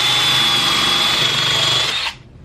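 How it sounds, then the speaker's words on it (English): A power drill pre-drills a hole in wood, its loud, steady high whine running for about two seconds before cutting off abruptly, close up with no talking. "I'm going to go ahead and pre-drill this side."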